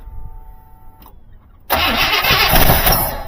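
A 1974 Buick Riviera with a 455 V8 cranks over, its starter whirring briefly and stopping; after a short lull the engine catches with a loud, broadband roar that carries on to the end, close by and with no talk.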